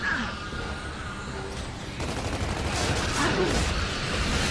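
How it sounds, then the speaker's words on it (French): Machine gun fire in the video game Gears of War 3, a sustained loud rattle of rapid shots that grows denser toward the end, with a voice underneath. "c'est une espèce de mitrailleuse, il doit avoir une protection"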